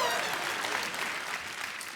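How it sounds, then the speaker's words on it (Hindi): A studio audience at a television comedy show gives loud, dense applause that stays even and continuous throughout the short clip. "इनके लिए जोरदार तालियां हो जाए।"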